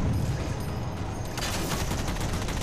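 Sustained gunfire from the Halo 4 campaign mission Infinity, a dense continuous burst of shots that grows brighter and more crackling partway through, close and loud with no talking.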